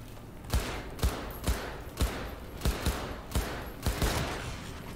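Gunfire at a shooting range in the video game Cyberpunk 2077, about ten sharp shots in an irregular sequence, some in quick pairs, loud and close with no talking.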